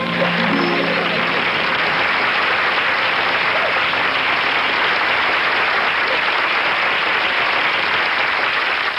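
Sustained audience applause fills the whole stretch, a steady, dense wash of clapping at even loudness with no talk over it.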